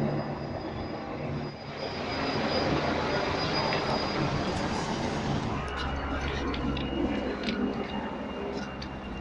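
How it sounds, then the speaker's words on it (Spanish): A Guardia Civil helicopter flies low over the town of La Bañeza, producing a loud, steady engine and rotor roar that continues without a break through the whole stretch. "un helicóptero de la Guardia Civil esté volando bajo"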